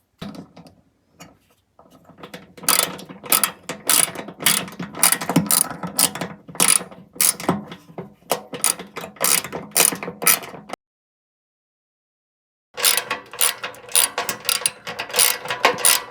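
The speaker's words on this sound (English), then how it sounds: "tighten up the bolts and reposition the squirrel cage" A ratchet clicks in long quick runs while tightening the bolts on the blower squirrel cage of a rattling Carrier HVAC unit, close and clear, with one pause of silence before the clicking resumes.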